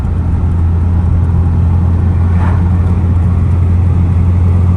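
A BMW E46 with an M54B30 straight-six and new-generation ignition coils drives at legal speed, a steady loud low engine drone with road and wind rumble and no clear rise in pitch.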